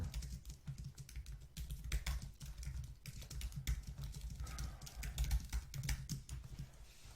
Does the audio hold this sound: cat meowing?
no